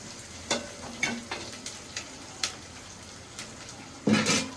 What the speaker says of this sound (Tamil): எண்ணெயில் போட்டு வாட்டிக்கிறோம் பூண்டு